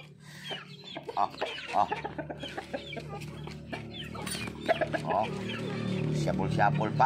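Native chickens cluck repeatedly in a backyard coop, their calls close and uneven, with people talking over and between them.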